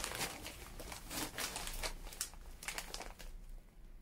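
A large 500-gram plastic bag of dried dandelion crinkles and rustles steadily as it is handled up close, with bursts of crackling throughout and no talking.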